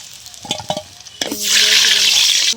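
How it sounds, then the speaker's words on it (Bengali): Potatoes dropped into hot oil in a wok (kadai) while making chicken biryani: a few clinks and stirring knocks, then a sudden loud, steady sizzle that holds for over a second before cutting off. "তো আলুগুলো ভেজে নেব আমি"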